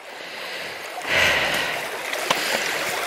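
A stream flows during a walk at Holford Glen up Slaughterhouse Combe, its close, steady rushing swelling after a second, with faint breathing and small knocks over the water.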